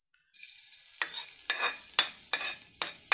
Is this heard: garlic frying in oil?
yes